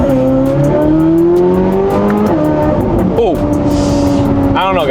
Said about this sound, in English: This car, from the outside, it sounds 10 times crazier. The way the exhaust amplifies the noise is crazy.